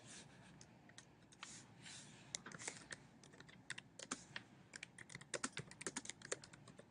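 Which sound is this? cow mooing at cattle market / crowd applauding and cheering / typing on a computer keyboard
typing on a computer keyboard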